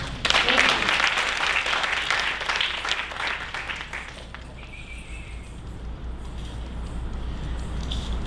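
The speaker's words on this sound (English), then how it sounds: "can we please have a round of applause for them?" Dense applause from a crowd at a Bharatanatyam dance recital rings out loudly, then thins into scattered clapping and fades toward a quiet room murmur.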